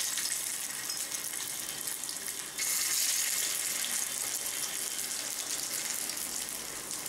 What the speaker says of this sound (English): I am going to shallow fry this in oil